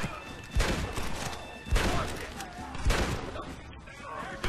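Gunfire in the video game Red Dead Redemption, from a bolt action rifle during a cover-fire shootout: three heavy shots roughly a second apart over a busy game soundscape.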